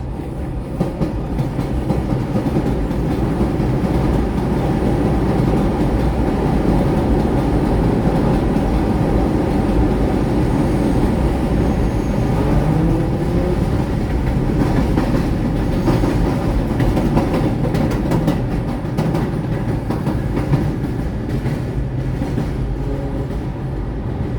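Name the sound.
trains passing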